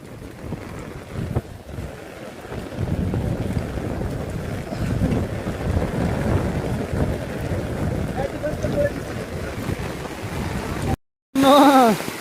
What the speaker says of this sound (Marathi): कसला हा होते पाऊस